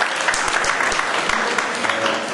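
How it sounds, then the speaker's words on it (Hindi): Steady audience applause at an agrarian crisis workshop in Barnala, Punjab, sustained clapping from a hall crowd throughout, loud and dense with no speech over it. "आप ताली लगा सकते हैं।"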